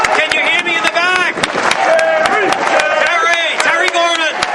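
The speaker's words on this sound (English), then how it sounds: "let's give him a big round of applause" Crowd applause and cheering at an anti in-state tuition political rally in Rhode Island, with dense, loud sustained clapping mixed with overlapping voices and shouts, sharp claps punctuating the steady roar throughout.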